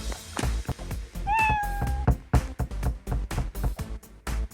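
A cat meows once in a Roblox video game, a clear rising-then-level mew set among rapid, repeated thumping game sounds and clicks.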